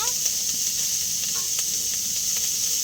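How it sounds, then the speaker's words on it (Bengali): Turnip slices fry in a pan with a steady, close sizzle that holds even and loud from start to finish. "শালগম ভাজা করছি"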